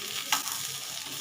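Fish bladder fritters fry in hot oil with a steady, bright sizzle, broken briefly by a light clink of a utensil early on.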